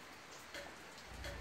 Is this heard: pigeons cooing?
no